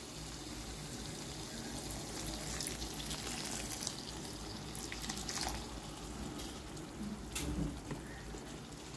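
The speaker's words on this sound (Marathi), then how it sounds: "याच्यात हे जे मटणातलं म्हणजेच कुकरमधलं जे पाणी होतं ते थोडंसं पाणी टाकते." Mutton stock from a pressure cooker is poured into a pan of cooked masala for mutter mutton, making a steady close watery pour with faint sizzle throughout.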